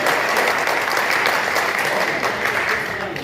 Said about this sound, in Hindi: आप तालियां बजाकर इस्तकबाल करें